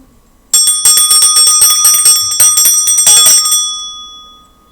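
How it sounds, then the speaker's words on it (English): A small bell is rung rapidly for about three seconds before a tarot reading, bright metallic strikes blending together, then a sustained ring fades out alone. "I'm going to start by clearing the energy with my bell."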